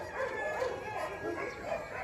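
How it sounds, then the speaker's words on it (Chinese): Many dogs in a large breeding kennel, including golden retrievers, a young Labrador, Dobermans, corgis and Pekingese, bark and yelp together in a dense, continuous din at moderate volume, with no talking. "这边有好多狗啊"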